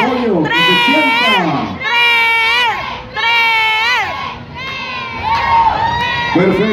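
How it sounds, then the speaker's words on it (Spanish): At a polka dance contest in Ciudad Victoria, a crowd shouts in support with loud, rising and falling yells and whoops in several long bursts, close and energetic. "Ahí está el grito de apoyo, que se sienta."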